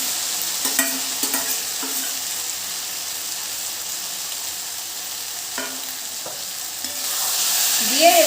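Fried jackfruit seeds and potatoes are tossed into a spiced masala in a hot pan, giving a continuous close sizzle broken by occasional spatula scrapes, with the frying swelling louder toward the end.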